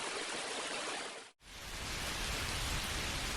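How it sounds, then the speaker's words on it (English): Gentle rain falls as a steady, soft hiss that breaks off for an instant before resuming evenly, with no voices. "Gentle, natural rain began to fall."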